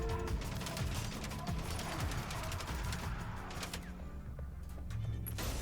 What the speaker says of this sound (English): Boom, and there's an explosion.